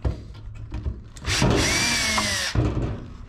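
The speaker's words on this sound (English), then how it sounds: "take a 1/16 inch drill bit and just drill out the center of each one" A small power drill with a 1/16 inch bit whirs in one short, high-pitched burst of about a second, drilling out a center, with light handling noises before and after.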